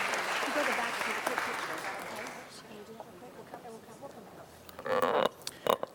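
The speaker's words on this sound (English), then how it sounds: "Let's give a great round of applause for this wonderful program and my district and the services that they provide." Audience applause at a city council meeting, dense clapping that gradually thins and fades, followed by a few scattered sharp sounds and brief voices near the end.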